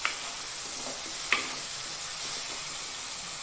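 Fish curry base with spices sizzles softly in a pan while being stirred, a steady low frying hiss with a couple of sharp spoon taps against the pan.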